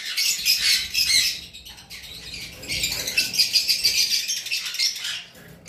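Pet conures in a bird shop chirp and squawk in dense, shrill bursts nearby, with wing flutters and a short lull midway before the chatter picks up again.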